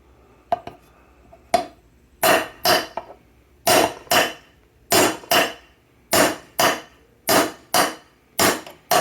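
Steady hammer blows on metal while tearing down a seized 1979 Vespa P200E engine, about a dozen sharp ringing strikes in an even rhythm after a few lighter taps, close and loud.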